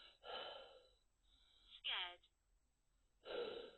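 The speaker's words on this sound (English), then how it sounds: "That's me breathing." A person breathes in a churchyard at night, giving three soft, close breaths spaced a second or more apart with quiet pauses between them.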